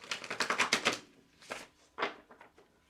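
A deck of tarot cards being shuffled by hand, a fast run of crisp riffling flicks for about a second, then two shorter bursts of card noise, close and fairly quiet with no talking.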